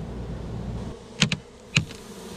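Bees living inside a shed wall give a low steady droning hum, close by, broken by a few sharp knocks or taps against the structure.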